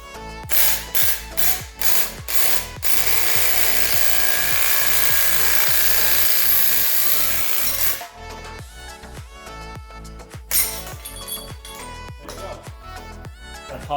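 Upper ball joint being forced out of a car's suspension with a hand-cranked ball joint press: a run of sharp ratcheting clicks, then a sustained loud grinding strain, followed by uneven clicks, knocks and clanks, close by with no talk.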